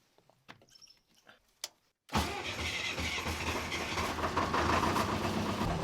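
A generator engine is started with a jumper pack. A few faint clicks and knocks come first, then the engine catches abruptly and runs on with a steady, loud, rumbling drone.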